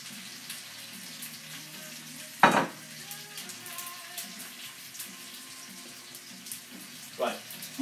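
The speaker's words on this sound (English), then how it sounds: "I can hear my fat boiling." Hot fat bubbles and sizzles faintly in a pan while Bombay potatoes are cooked, broken by a few louder splashy bursts.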